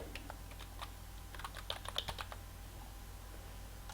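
Keys on a computer keyboard click in quick, irregular bursts as a password is typed, faint and near in a quiet room.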